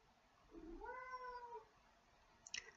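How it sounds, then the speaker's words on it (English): A house cat lets out a drawn-out complaining meow, rising then falling, followed by a short, sharper chirp near the end, close and fairly quiet in a still room. "My cat is complaining so much."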